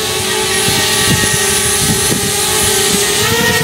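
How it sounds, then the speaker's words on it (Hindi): A flying drone gives off a steady, loud propeller whine with a constant tonal hum, together with some low rumbling bumps, and no one speaks. "ये रहा ड्रोन, आप देख सकते हैं"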